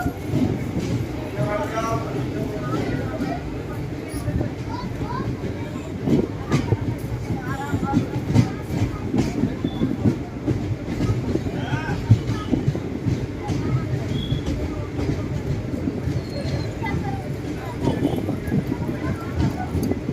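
The Ranikhet Express (15013) pulls out of Alwar Junction, heard from a seat inside: a continuous rumble with steady rhythmic wheel clacks over rail joints throughout.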